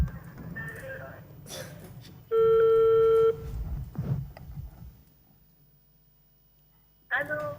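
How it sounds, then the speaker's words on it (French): Phone call being placed to a prize winner at an auction event: a short steady electronic ring tone sounds alone between bursts of nearby talk and gasps, then speech resumes at the end. "Bref, on appelle Capso"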